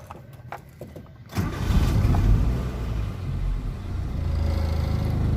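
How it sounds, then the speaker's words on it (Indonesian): A Katana GX 94 car engine, started with the door open, cranks and catches, then settles into a steady low idle rumble that carries on to the end. "kali ini saya akan menghidupkan mesin posisi pintu terbuka"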